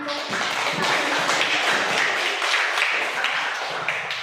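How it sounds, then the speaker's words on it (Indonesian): Classroom applause from students after a debate, a dense, continuous patter of clapping that stays even and fairly loud throughout, with no voices over it. "Silakan kita berikan tepuk tangan"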